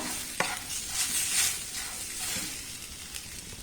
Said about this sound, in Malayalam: ഇനി നന്നായിട്ടൊന്ന് നമുക്ക് മിക്സ് ചെയ്യണം ഒന്ന് മിക്സ് ചെയ്യാം